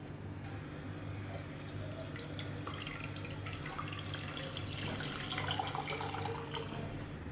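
Tap water running into a sink while a pressure cooker is washed after cooking dal, a steady faucet stream with splashes and drips that swells slightly toward the end, no talking.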